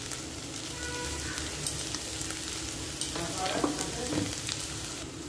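Potatoes frying in a pan with crushed ginger and garlic, a steady close sizzle with occasional stirring scrapes and no talking.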